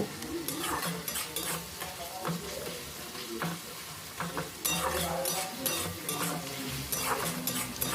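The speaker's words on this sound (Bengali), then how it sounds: "আমি আরেকটু নাড়াচাড়া করে নেব" Masala with softened tomato is stirred in a pan for Bengali katla kalia, a continuous sizzle of frying with repeated scraping strokes and a few metal clinks, close and steady over several seconds, with faint speech in places.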